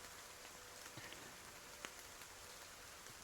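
Rain patters steadily outside, a soft broadband hiss with a few scattered louder drops, quiet and distant throughout with no voices.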